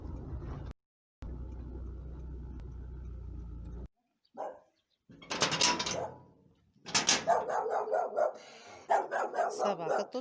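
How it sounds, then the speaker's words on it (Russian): A dog barks in a rural village yard in a run of loud, close barks, preceded by a steady low hum and a brief clatter, with a voice speaking nearby. "Собака тут у них."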